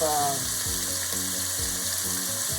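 Ground beef browning in a pan for hot dog chili gives a steady, close sizzle that runs unbroken through the whole moment, with soft musical tones layered underneath.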